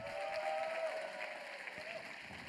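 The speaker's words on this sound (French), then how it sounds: "On peut l'applaudir bien fort." A church congregation at a Sunday service claps steadily for a newborn. The applause sounds soft and somewhat distant, and a faint steady tone runs beneath it.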